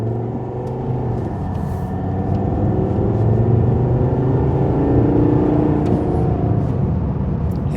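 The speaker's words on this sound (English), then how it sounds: "Yes, good downshifting in sport mode." A 2012 Volvo XC60 R-Design SUV engine downshifting in sport mode, giving a steady, fairly loud drone and whir with rising engine tones heard from inside the cabin, no talking.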